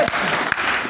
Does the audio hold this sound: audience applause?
yes